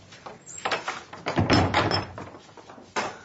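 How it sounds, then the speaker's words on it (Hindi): A house door being opened gives a series of close rattles and clunks from the latch and frame, with a louder thud at the middle and a last knock near the end. "अरे मिश्रा जी दरवाजा तो खोलो"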